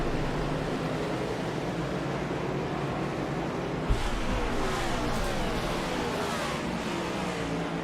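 Race cars in the iRacing sim accelerate together after a green-flag restart at a September 11 Memorial 85 cup race, a dense steady engine roar holding at even loudness throughout with a brief thump near the middle.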